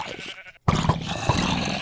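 A sheep in the Minecraft video game bleats twice, loud and close after a brief silent gap, each call a short nasal digital cry against steady game background sound.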